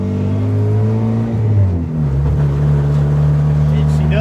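A Mitsubishi Eclipse engine with no muffler idles loud and throaty, then its pitch shifts upward in a short rev near the two-second mark and holds at a steady higher drone, close and rumbling.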